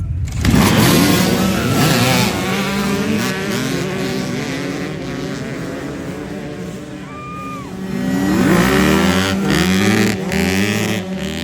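Several dirt bike engines roar and rev after a kickstart dead-engine race start, loud and continuous, with rising pitch sweeps as the bikes pull away and accelerate.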